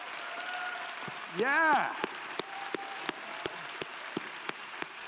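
Audience applause at Star Wars Celebration, a steady wash of distant crowd clapping with a short vocal chirp and a brief spoken word over it.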